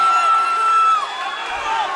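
At an MMA fight, XFC 17 Kyle Thompson vs Ross Johnson, the crowd stands and cheers in a dense, steady roar with a high whistle riding on top, loud and sustained.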